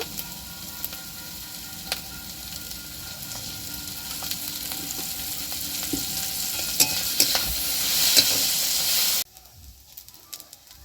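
Taro leaves sizzle steadily in mustard oil in a hot pan on low heat while a spatula scrapes and stirs with scattered clicks, then the frying sound drops away near the end.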